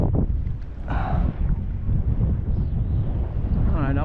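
Wind blows steadily across a boat's microphone on the water in the Florida Keys during bonefishing, a constant low rumbling buffet with brief voice sounds rising over it.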